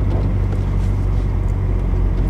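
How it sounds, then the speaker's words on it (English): A Chevrolet Corvette Z06 idles and creeps over a speed bump with the clutch barely engaged, giving a steady, close, low engine rumble with no revving and no talking. "I'm barely feathering the clutch just to get the car over."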